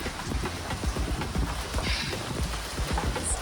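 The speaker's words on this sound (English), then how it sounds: "A little rain and thunderstorm here this afternoon." Rain falls steadily during a thunderstorm on a boat, a dense patter of drops striking nearby surfaces with irregular close taps, constant and moderately loud throughout without any speech.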